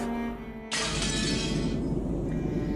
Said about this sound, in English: The teacup on the table smashed on the floor, making a violent sound.